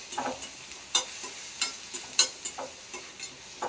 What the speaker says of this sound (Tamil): அப்புறமா விழுண்டு இஞ்சி பூண்டு பேஸ்ட் அதையும் போட்டு நல்லா வதக்கிடுவோம்